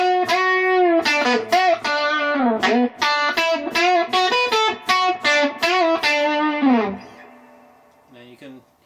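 An electric guitar through a distortion pedal plays a fast run of choppy, buzzing notes, then rings out and fades.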